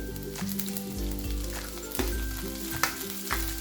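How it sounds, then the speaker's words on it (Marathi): Chopped capsicum tipped into a pan of frying onion for masala oats, giving a loud, steady sizzle with a few scraping stirs, close up and with no voices. "कांदा आपला परतला आहे तरी आता आपण ऍड करू शिमला मिरची"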